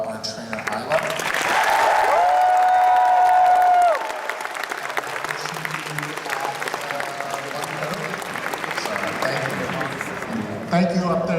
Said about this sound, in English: So one last round of applause for our trainer, Isla.